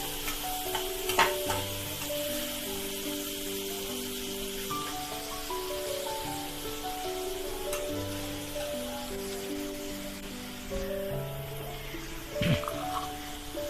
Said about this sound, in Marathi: मग टोमॅटो घालून घ्यायचा. टोमॅटो चांगला मॅश होऊन द्यायचा.